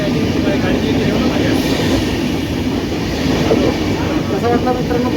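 A local train on the Badlapur to Pune line, near Lonavala, roars loudly and steadily with rattling wheels and carriage clatter throughout, heard from on board, with a few voices faintly mixed in.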